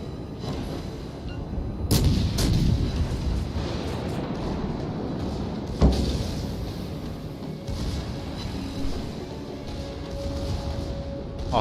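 Heavy naval guns booming in World of Warships Legends as the battleship Massachusetts fires, two or three deep blasts over a constant rumbling sea and engine background.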